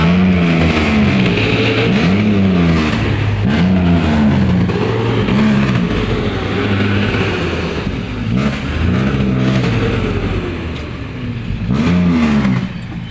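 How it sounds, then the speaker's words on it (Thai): Cars sit stuck in a traffic jam, some of them reversing, with a loud, continuous engine rumble and a wavering, revving drone throughout, heard up close with no pauses. "รถติดนะคะ ถอยตะเลิดนะคะ"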